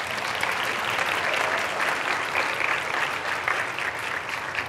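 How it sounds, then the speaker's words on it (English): A crowd claps steadily and fairly loudly, continuous applause filling the whole stretch without voices. "let's give her a round of applause"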